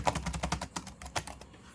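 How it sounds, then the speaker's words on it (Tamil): Fast typing on a computer keyboard during a typing practice test, a quiet steady patter of close key clicks with no voices. "இப்போ சும்மா ஏதோ ஒன்று டைப் பண்ணுறேன்."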